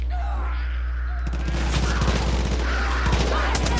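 Bursts of gunfire crackle in the open-world shooter Far Cry 5, rapid shots starting partway in and continuing in irregular volleys over a steady low engine-like rumble.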